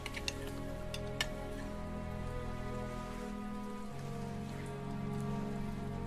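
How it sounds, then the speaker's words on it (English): Steady rain patters on surfaces in a continuous close, even wash with a few sharper drips standing out, and no voices heard. "The rain's easing up now."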